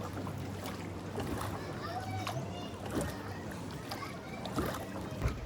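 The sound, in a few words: rowboat paddled through river in Ninh Binh, Vietnam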